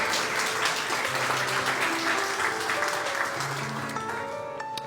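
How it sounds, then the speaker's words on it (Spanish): Congregation applause in a church service, dense steady clapping over sustained keyboard notes, with a few voices underneath as it gradually eases off. "Démosle ese aplauso al Señor."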